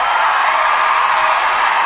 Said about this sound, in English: Come on, give me some cheering for Albert.